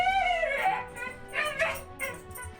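A dog whimpers in the video game Metaphor, giving a few close, high, plaintive whines in short rising bursts, alone without talk.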